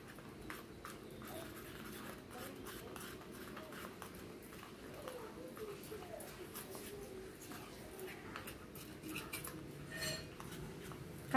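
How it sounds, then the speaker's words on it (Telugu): A spoon stirs a honey face mask in a small bowl, making faint, steady clinks and scrapes at close range with a soft background hum and a louder knock at the very end. "మొత్తం కూడా మిక్స్ చేసుకోవాలి హనీ కూడా మిక్స్ అయిపోయేటట్టు"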